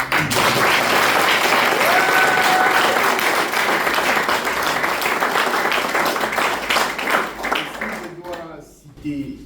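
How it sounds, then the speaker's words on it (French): An audience bursts into sustained applause, dense clapping from a crowd at a ceremony, loud at first and gradually thinning out near the end. "Ça mérite des applaudissements."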